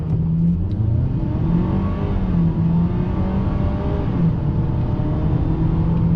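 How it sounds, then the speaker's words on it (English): A 2022-2023 Ford Maverick XL pickup with a 2.0 EcoBoost engine and all-wheel drive accelerates hard from a stop toward 60 mph, its engine droning loudly and steadily while the pitch climbs gradually, with no talking. "Let's come to a stop and do a 0 to 60."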